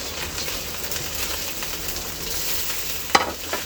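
Broken rice and mung dal frying in a pan give a steady, close sizzle with light scraping from stirring, and one sharp clack near the end.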